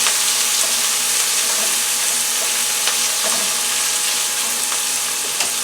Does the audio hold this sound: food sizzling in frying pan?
yes